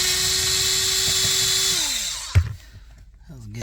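A power driver whirs steadily as it backs out a Torx 20 screw from the brake cover of a Mercedes GL450/ML350, then winds down in pitch and stops with a clunk; a voice follows briefly.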